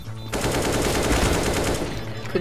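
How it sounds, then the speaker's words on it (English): Rapid automatic gunfire from a video game gun, loud and continuous with dense repeated shots, and faint voices mixed in. "Consider shooting the gun."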